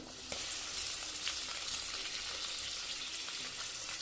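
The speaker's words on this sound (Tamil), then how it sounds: "இப்போ இந்த அளவுக்கு நம்ம தக்காளி வதக்கிட்டோம்" Tomatoes sautéing in a pan as the base for mutton curry, a steady close sizzle with faint occasional scrapes and spatters, heard alone without talk.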